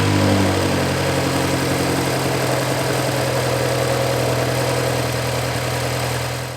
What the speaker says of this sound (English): Let me go ahead and start the car